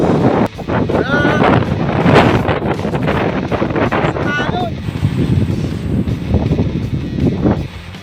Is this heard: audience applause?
no